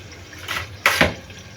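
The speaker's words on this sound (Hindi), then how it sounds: "पानी थोड़ा सा और ऐड किया है" Water is poured into a pot of chicken curry with tomatoes, green chillies and onions in two short splashing bursts, close and clear with no talk.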